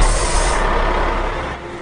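Animated truck pulling away with a loud hiss of released air brakes up close, the burst fading into a lower engine rumble as it departs.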